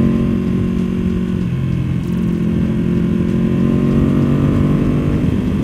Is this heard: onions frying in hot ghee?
no